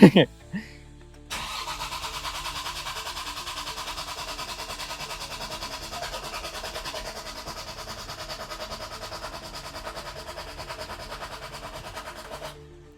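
Toyota MK3 Supra engine cranked over by its starter after an oil filter relocation, a steady grinding churn running for about eleven seconds without catching, after a brief click at the start, loud and close.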